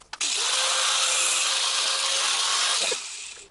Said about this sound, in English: we're going to hit this with an angle grinder right here